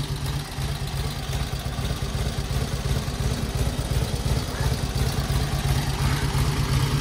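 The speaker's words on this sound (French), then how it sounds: "je vais couper le moteur parce que je casse les oreilles à tout le monde là" A 1948 Indian Chief motorcycle engine, a long-stored vintage V-twin just brought back to life, idles loudly and steadily with a deep, even throbbing pulse held for the whole stretch.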